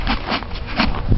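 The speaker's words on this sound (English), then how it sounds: "I'm going to shake the bucket." A bucket of grain shaken to call a horse herd, giving repeated rattling, swishing bursts in a quick irregular rhythm, close and fairly loud.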